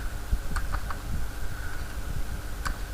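Quiet, sparse typing on a computer keyboard: a handful of separate key clicks with pauses between them over a low room hum.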